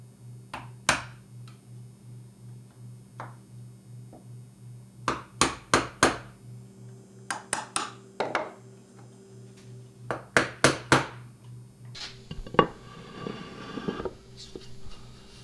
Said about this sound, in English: Now I'm going to square up the corner with a chisel.